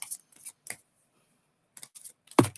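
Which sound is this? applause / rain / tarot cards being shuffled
tarot cards being shuffled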